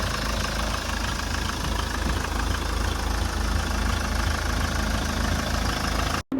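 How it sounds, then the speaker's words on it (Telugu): A second-hand Mahindra Scorpio S4 diesel engine idling up close, a steady rough knocking rumble that runs evenly throughout before cutting off abruptly at the very end. "అలాగే ఇంజిన్ సౌండ్ కూడా వినిపిస్తాను. ఇంజిన్ సౌండ్ కూడా ఒకసారి అయితే వినండి."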